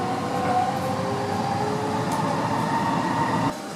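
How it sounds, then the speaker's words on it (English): A Canada Line metro train running from Richmond toward Vancouver airport gives a steady, loud rumble with a faint high whine of wheels, heard from nearby, then the noise drops abruptly near the end. "And this is the train I'm going to take"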